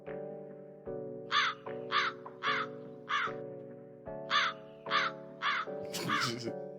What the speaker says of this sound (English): I got to let the crows out.